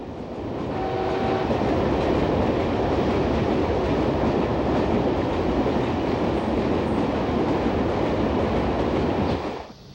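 A train runs along a railway on a long journey west of Xi'an, heard as a loud, continuous rumble and rattle of rolling wagons that holds steady and then cuts off abruptly near the end.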